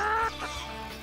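A free-range chicken on a farm gives a short cluck, faint and brief, against quiet background hum.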